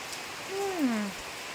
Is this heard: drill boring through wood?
no